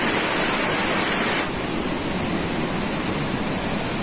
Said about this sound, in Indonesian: itu ada air terjun di depan kita